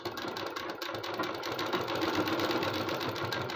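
A sewing machine stitches along the neckline edge of a suit's main fabric and lining, running in a steady, continuous whir throughout at close range.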